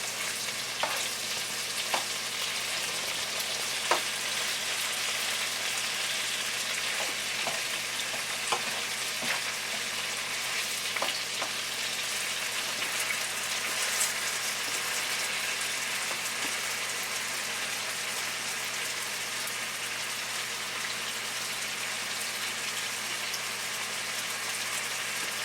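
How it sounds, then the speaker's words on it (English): Steak browning in a frying pan for pepper steak gives a steady, close, loud sizzle that runs unbroken throughout, with occasional faint clicks of stirring and no talking. "you see how I'm browning the meat?"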